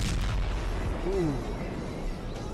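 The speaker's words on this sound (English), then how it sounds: "A little nuclear bomb goes off in the background, mushroom cloud." A cartoon nuclear bomb goes off with a mushroom cloud in a Yu-Gi-Oh episode, heard as a sustained low rumbling boom with a rising-falling tonal whoosh in the middle.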